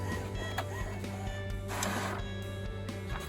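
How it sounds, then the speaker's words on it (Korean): A Samsung J1560W inkjet multifunction printer with an ink tank system prints a test page, whirring and clicking mechanically with steady motor hum and short feed noises, close and continuous. "프린터에서 이제 반응이 있었고 소리가 나고 깜빡깜빡거리고"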